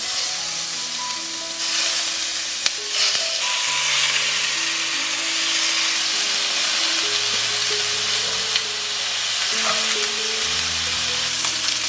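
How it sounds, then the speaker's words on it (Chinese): Pork ribs sear in a dry pan for a Hakka-style braised rib dish, giving a loud, steady sizzle and crackle throughout, with occasional sharper pops and soft background music. "然后先干锅把排骨煎香"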